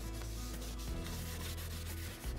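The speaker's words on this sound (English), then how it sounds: "that's why you kind of rub it in with the sandpaper as well" Sandpaper rubs wood finish into a hard Bubinga workpiece on an R8 tool holder build, a steady close scratchy rubbing that runs continuously, alone with no talk.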